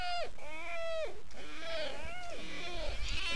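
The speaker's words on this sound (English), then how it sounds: "That was a cat!" Several drawn-out, wavering meows from a cat in the video game Revenge of the Sunfish, in quick succession, loud and close, with a slightly synthetic, bleating quality.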